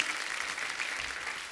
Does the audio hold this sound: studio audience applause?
yes